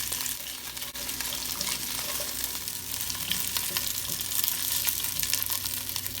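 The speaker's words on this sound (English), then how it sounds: "half an onion, celery, let them sweat for a couple of minutes" Half an onion and celery sweating in a pan for kubbeh, an even, bright sizzle that holds steady throughout, close by with faint occasional ticks and no voices.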